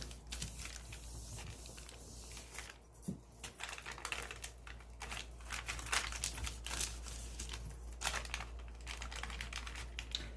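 Tissue paper is crinkled and pressed onto a gel printing plate, giving faint, irregular papery crackles and rustles close up in a quiet room, with no talking.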